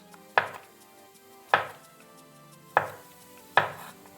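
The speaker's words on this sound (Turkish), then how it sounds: "biz de bu arada yıkamış olduğumuz mantarları ince ince doğruyoruz" Four crisp knife chops finely cutting mushrooms on a cutting board, spaced about a second apart, close and distinct with quiet between strokes.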